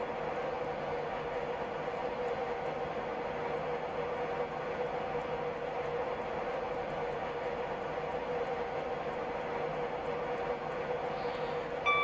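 A Class 91 electric locomotive with HST stock runs in Train Simulator Classic between London St. Pancras and Bedford, giving a steady, loud rumble and hum that continues evenly with no speech.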